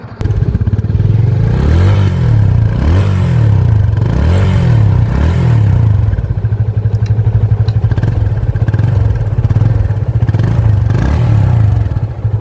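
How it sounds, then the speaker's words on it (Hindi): A Yamaha FZS 25 BS6 motorcycle's exhaust idles and revs close up, with a steady low thumping burble and a few rising throttle blips early on, then settles into an even idle. "आइए मैं आपको इसके एग्जॉस्ट की साउंड भी सुनाता हूँ।"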